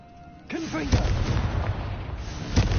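A Confringo fire spell in Hogwarts Legacy lands as a booming, crackling blast, with a second burst later. A brief voice is heard as the first blast begins.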